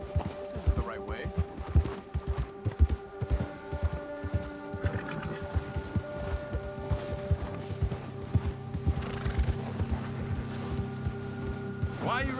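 Horse hooves galloping in Red Dead Redemption 2, a steady rapid clip-clop on a trail under a low hum, with voices talking over the ride.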